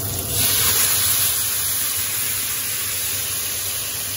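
Starchy pasta water ladled into a hot pan to deglaze spaghetti carbonara sets off a loud, broad sizzling hiss that swells at once and then holds steady, close up, with no talk.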